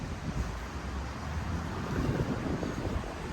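Strong wind buffets the microphone in a steady low roar, gusting a little harder toward the end, with no voices.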